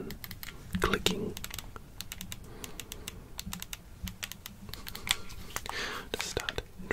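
Crisp, rapid plastic clicks from the buttons of a Nintendo Switch controller, close and fairly quiet, tapping in an irregular run with brief pauses and faint breathy noise underneath.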